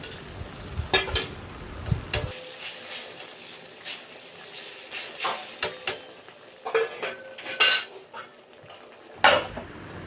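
Fried fish pieces going into boiling water in a pan while cooking a Bengali fish dish, heard as a series of clinks, scrapes and sizzling stirring noises, moderately close, with no talk.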